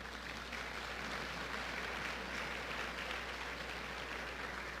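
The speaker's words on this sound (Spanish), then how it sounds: "Dale un aplauso al Rey de Reyes." Applause from a church congregation, a steady wash of many clapping hands filling the room without a break, alone with no talk and a low hum underneath.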